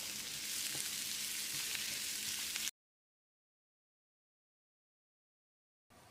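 Cumin-spiced potato fry sizzling steadily in a pan after chopped coriander leaves are added, a dense close crackle lasting a few seconds, then a stretch of silence before the sizzle briefly resumes.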